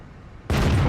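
A single heavy tank cannon blast from a Soviet T-54 first prototype medium tank in a tank video game, heard as a sudden loud boom that cuts in after a quiet low rumble and holds dense to the end.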